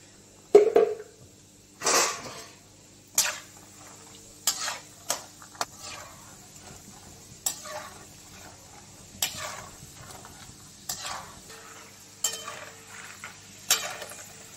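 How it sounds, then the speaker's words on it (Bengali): Peanuts fry in oil for dalmut while a spoon stirs them, giving repeated clinks and scrapes against the pan at irregular intervals over a quiet, faint sizzle. "ওই তেলে আরো খানিকটা বাদাম ভেজে নেব"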